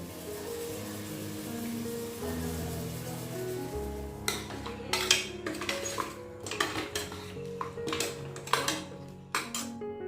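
Mutton bones and masala being stirred in a metal pot, with a utensil scraping and clinking against the sides in a run of close, irregular knocks over a steady low background hum.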